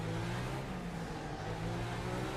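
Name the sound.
Mercedes touring car engine revving in RaceRoom video game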